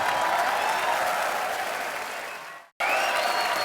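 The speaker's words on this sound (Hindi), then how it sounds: "जोरदार तालियों से स्वागत कीजिए" A studio audience at a comedy show claps loudly to welcome guests, a dense sustained round of applause that fades out, then cuts back in at full strength.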